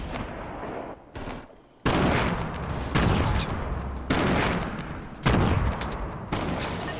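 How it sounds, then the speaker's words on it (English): Grenades exploding one after another in a Fortnite Battle Royale match, loud rumbling booms arriving in close succession with a few brief gaps, up close. "I'm just spamming grenades!"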